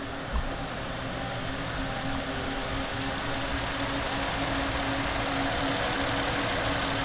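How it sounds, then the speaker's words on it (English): Engine of a 2014 Honda Odyssey EX idling: a smooth, steady mid-low hum with a faint even rumble, close and unchanging for the whole stretch, no talking. "That engine is running smooth"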